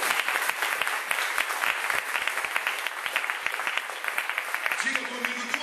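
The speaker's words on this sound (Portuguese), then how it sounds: "Pode aplaudir de novo." A church congregation applauds during a sermon: dense, lively clapping from many hands, close and steady throughout, with a voice briefly rising over it near the end.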